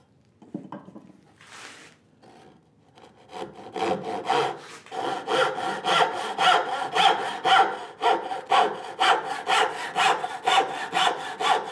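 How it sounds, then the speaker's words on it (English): A small tenon saw cutting wood at a workbench while making a drawer, a few light starting strokes and then a steady, rhythmic run of loud, rasping back-and-forth strokes. "And then we're going to go with the tenon saw. Small tenon saw."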